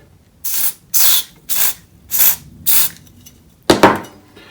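Aerosol can of contact cleaner, nearly empty, sprays onto a part while restoring an Amstrad CPC664 computer: five loud, close hissing bursts of under a second each with brief pauses, then a final sputtering spray.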